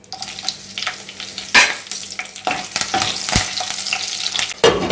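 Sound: green chillies frying in a pan

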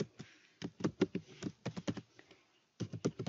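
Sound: typing an email address on a computer keyboard

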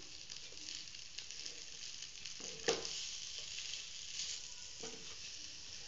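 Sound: sautéing tomato masala filling for masala dosa

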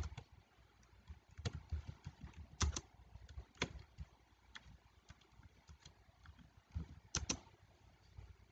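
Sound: typing on a computer keyboard

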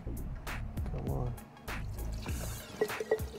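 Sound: water and oil draining from engine bottom end

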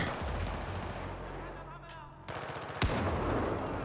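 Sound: gunfire in the video game Battlefield 4

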